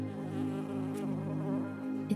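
A steady insect buzz, like a bee in flight, holds a continuous droning tone for a couple of seconds, close and even, with no talking.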